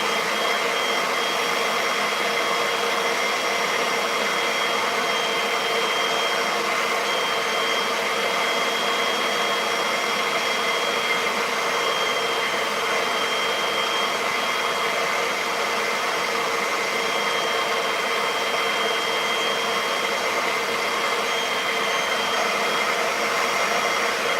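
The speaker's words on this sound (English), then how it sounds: "Vacuum the moisture out." A vacuum cleaner runs steadily and loudly throughout, sucking water and moisture out with a constant broadband whooshing drone and no pauses.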